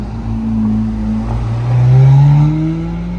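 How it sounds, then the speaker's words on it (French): A Ferrari 458 Speciale with an aftermarket exhaust revs loud and close, its engine note climbing steadily in pitch through a sustained rise in loudness, captured during a car-spotting evening in Monaco. "cette magnifique 458 Speciale avec un échappement. Oh, la sonorité, c'est superbe."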